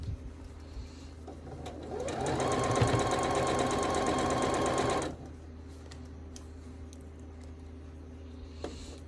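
Sewing machine stitching a quilt while finishing a Pop Star quilt, a steady mechanical whir with rapid needle clatter that runs for a few seconds and then cuts off, leaving quiet room tone with small clicks.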